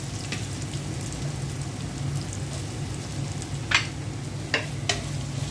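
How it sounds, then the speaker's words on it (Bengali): Chopped raw green tomato fries with onions in a pan, a steady soft sizzle close by with occasional stirring scrapes and a few sharper crackles. "কাঁচা টমেটোটা আমি ভেজে নিব।"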